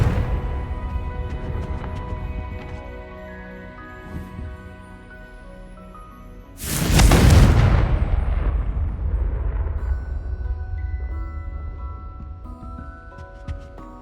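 A Confringo blast spell explodes in Hogwarts Legacy, a sudden loud boom that fills the mix midway and decays slowly over a steady musical game backdrop, with no talking.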